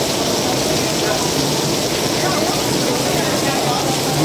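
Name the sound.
heavy rain falling during an outdoor bicycle race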